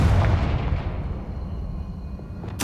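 A Confringo fire spell blasts in Hogwarts Legacy, a loud booming burst with a long rumbling decay that fades over a couple of seconds, followed by a sharp crackling hit at the very end.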